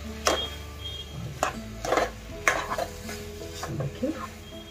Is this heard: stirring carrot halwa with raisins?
yes